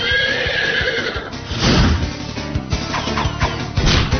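A horse sound effect in a trivia quiz game: a loud, shrill neigh rises and trembles, followed by a short crash and a few hoof clops, all crisp and close with no talking.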